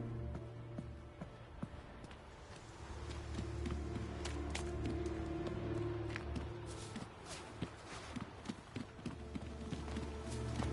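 Horse hooves clip-clop in a steady walking rhythm close by in the video game The Witcher 3, over a low rumbling ambience and faint murmurs.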